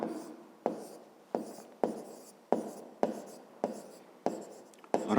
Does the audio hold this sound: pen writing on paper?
yes